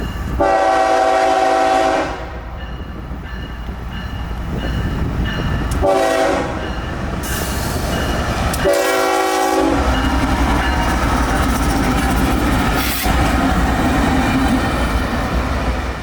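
Light freight locomotives rumble steadily past with repeated loud horn blasts sounding several times, their engines roaring close by throughout.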